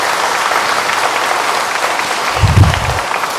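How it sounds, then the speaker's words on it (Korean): Loud, steady applause from a church congregation at a Sunday Mass offertory, continuous clapping throughout with a brief low thump near the end. "우리 박수 부탁드리겠습니다"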